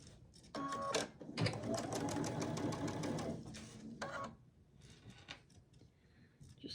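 Sewing machine stitching pre-cut quilt pieces together, a close, rapid mechanical chatter in several runs of different lengths with short pauses between, fading to quiet handling noise at the end.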